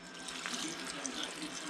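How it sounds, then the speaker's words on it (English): Ground cherries being rinsed under a running kitchen tap, a steady close hiss of flowing water splashing over the fruit for the whole short stretch, with no talking. "I'm just going to give these a quick rinse"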